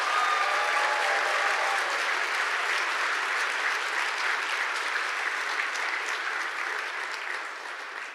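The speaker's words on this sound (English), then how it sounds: "A round of applause for our soon-to-be graduates." Applause from a large audience at a university Match Day ceremony for soon-to-be medical graduates, a steady, full wash of clapping that holds for several seconds before tapering slightly.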